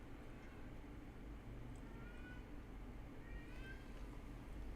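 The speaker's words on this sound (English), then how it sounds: "You're making kitten noises?" A kitten mews faintly in a few thin, short calls over a steady low hum, heard in a Sims 4 game session, quiet and distant.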